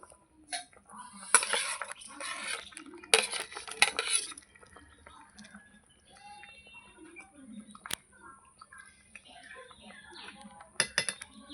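Fried shing fish go into a simmering curry with potatoes in a pot, bringing two short bursts of clattering utensil-on-pot clinks over a quiet kitchen background.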